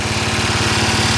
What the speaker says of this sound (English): Here's Dad on the tractor.